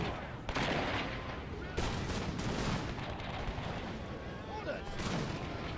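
Musket volleys crackle in Napoleon Total War, with repeated sharp bursts of massed gunfire rolling over a battlefield din, fairly distant and muffled, while a voice speaks briefly.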